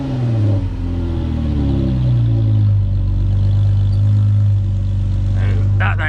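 A Jeep engine with its muffler cut off revs hard, a deep, loud, steady low roar that climbs and holds throughout, with someone talking over it near the start.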